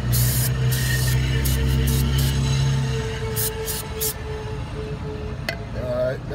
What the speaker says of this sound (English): So take that brake spray.